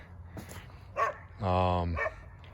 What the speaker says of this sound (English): Dogs are happy.